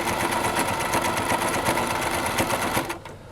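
Sewing machine stitching the armholes of a garment, a fast continuous mechanical whir with rapid needle ticking, running steadily close by and then stopping.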